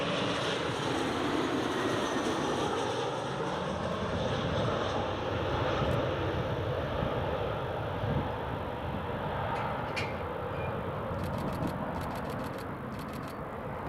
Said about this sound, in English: here comes a KLM Embraer 190